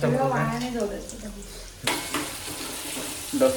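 Leftover moong dal khichdi hits a hot pan after a stretch of talk, then a steady, close sizzle of frying continues to the end.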